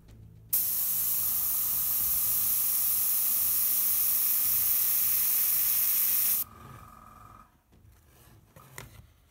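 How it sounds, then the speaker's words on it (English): An airbrush sprays paint onto a surface in one sustained, loud, even hiss lasting about six seconds, then cuts off abruptly, leaving quieter handling noises. "So if I start to apply some paint onto this surface here"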